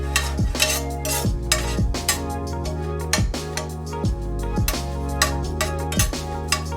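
Zucchini stirred in a hot pan with sesame oil and garlic: a steady sizzle under repeated regular metallic scrapes and clinks of a utensil against the pan, close and prominent throughout, with no talking.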